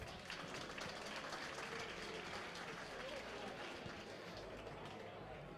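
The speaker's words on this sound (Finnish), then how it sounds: "Annetaan raikot aplodit" An audience applauds at a car show gala, a dense, even wash of clapping that holds steady throughout at low level, with some voices mixed in.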